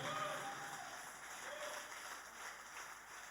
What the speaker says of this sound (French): Merci d'applaudir pour Ricardo Nana qui est derrière